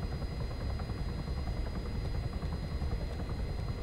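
Chinook helicopter engine and rotors in the military game Arma 3, a steady loud dense rumble with a fast rhythmic rotor chop, running continuously on its own without any talk.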